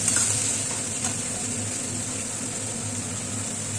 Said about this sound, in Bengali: আমি পেঁয়াজ কুচি এর মধ্যে দিয়ে দিলাম পেঁয়াজটাকে কিছুক্ষণ নাড়াচাড়া করবো লাল লাল করে ভাজবো